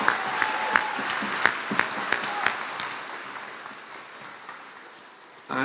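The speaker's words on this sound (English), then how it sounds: "Let's give a round of applause to the wonderful mothers here tonight." Applause at a high school graduation ceremony, sparse and fairly distant, with a few sharper individual claps standing out early before the sound thins and fades to a quiet murmur.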